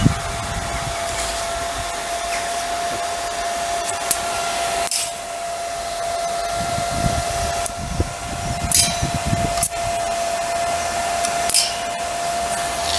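Stayer Inverter 125A stick welder running at 90 amps on iron, giving a steady crackling buzz with a constant electrical hum and intermittent sharper sputters and pops throughout, close and alone.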